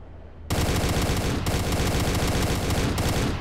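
Heavy gunfire in the mech combat video game MechWarrior: Living Legends, loud sustained automatic bursts starting abruptly after a brief quiet moment, with short breaks between volleys.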